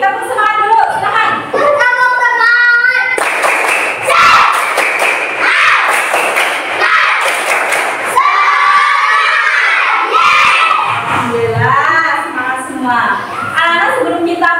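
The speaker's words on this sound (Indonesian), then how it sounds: "Tepuk semangat dulu." A class of fourth-grade schoolchildren performs a spirit clap, loud rhythmic clapping and thumps mixed with shouted group chanting and cheering from the whole class, interspersed with a teacher's voice.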